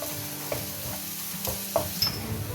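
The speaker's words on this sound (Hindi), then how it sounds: "इसको लहसुन के पेस्ट को भून लें इसके साथ।" Garlic paste frying with onions in a pan sizzles steadily up close, with periodic stirring scrapes and soft knocks of a spoon against the pan.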